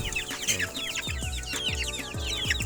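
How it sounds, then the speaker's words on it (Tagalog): Chicks and young fowl separated into a pen cheep and cluck steadily, with repeated low clucks and busy high peeping close by, no talk. "ito yung mga ibang sisiw nilagay ko dito"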